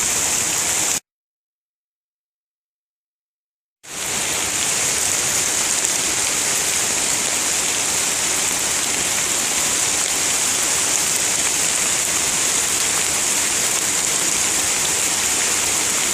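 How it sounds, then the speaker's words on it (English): Heavy rain pours down in a dense, continuous roar, broken by a few seconds of complete silence near the start. "I'll stay here and try to stay out of the rain a little bit"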